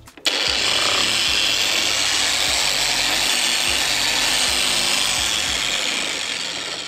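A rotary polishing machine buffs a car headlight, a loud continuous motor whine with faint rhythmic pulses from the pad, starting abruptly and running steadily close by.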